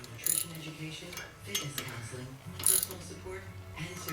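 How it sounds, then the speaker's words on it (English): Small metal clinks and ratcheting taps as 8 by 1.25 mm bolts with 13 mm heads are threaded into the holes of a Toyota Prius wheel hub rotor, intermittent and close, with a low voice murmuring underneath. "So we're just going to screw those into those holes"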